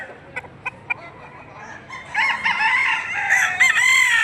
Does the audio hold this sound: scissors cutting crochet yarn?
no